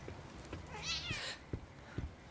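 A cat in the horror video game The Medium lets out a single drawn-out meow near the middle, close and clear over quiet background sounds with a few soft footstep-like thuds.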